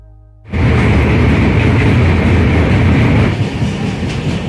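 The 22503 Dibrugarh Vivek Express rolls along the rails between Malda and Guwahati, a loud sudden onset of rumbling wheels and rattling carriages that holds steady, easing slightly near the end.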